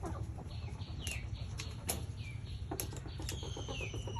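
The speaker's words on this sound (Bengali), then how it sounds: "এগুলো অরিজিনাল টাইগার মুরগি এটা মোরগ" A tiger-breed rooster of roughly 3 to 3.5 kg flaps its wings in quick, close bursts, with short clucks and calls from the bird over a steady farmyard background.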